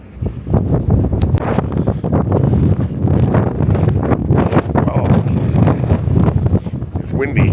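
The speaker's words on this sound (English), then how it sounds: "Well, it's windy." Strong wind blasts across the open deck of the Coral Princess cruise ship at sea, roaring and buffeting the microphone continuously with gusty, rumbling turbulence throughout.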